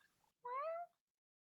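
A single short meow from a cat, close and clear, after a faint murmur of voices.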